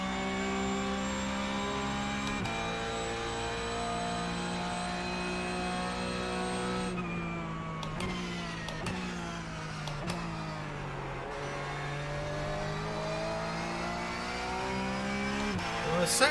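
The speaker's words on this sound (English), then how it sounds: "I'm downshifting all over the place still" A Porsche GT3 race car engine in the iRacing sim drones steadily with a harmonic whine, and several abrupt pitch drops mark repeated downshifts as it brakes into corners, with another car audible nearby.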